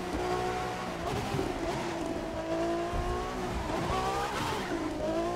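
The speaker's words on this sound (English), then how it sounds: "It sounds like a proper race car." Maxed-out race car engine in The Crew 2 racing game, Ferrari FXX K or KTM X-Bow, roaring steadily with rising and falling revs and hints of tire squeal, no talk.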